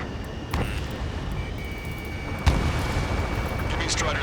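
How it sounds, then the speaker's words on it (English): Gunfire and the deep roar of jets in the Ace Combat 7: Skies Unknown video game, a steady dense rumble with two sharp booming bursts rising out of it, under a speaking voice. "Gunfire and the roar of jets echoing through the streets."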